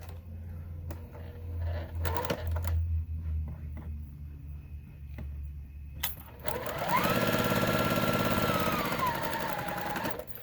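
Sewing machine chain piecing quilt pieces for a Little Boys Breeches block with a quarter-inch seam; short bursts of whirring stitching early on, then a long steady run of loud, fast motor hum and needle clatter close by.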